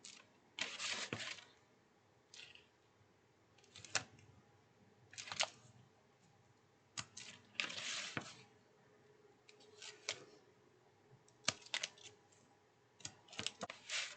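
Tape pulled and pressed onto paper pieces while folding a DIY paper craft, heard as a series of close, short crackly bursts spaced irregularly, with no talk.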